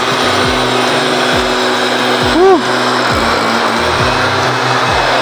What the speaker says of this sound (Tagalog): yung pagbubuga ng misting machine